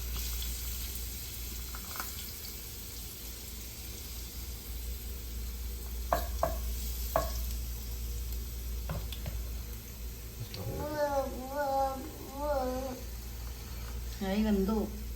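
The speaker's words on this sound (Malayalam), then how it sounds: "അടുത്തതായി ഇതിലേക്ക് ചെറിയ ജീരകം ഇട്ട് കൊടുക്കുക." Cumin seeds sizzle in a hot pan as a soft, continuous crackle with occasional stirring clicks, while a person talks over it in the second half.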